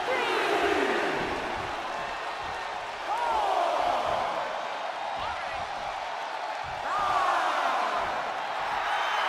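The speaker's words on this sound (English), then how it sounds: "The sound of this crowd is deafening" Crowd roar in the WWE 2K23 wrestling video game, a dense swelling din of cheers and shouts that rises and falls, with a commentator's voice running over it.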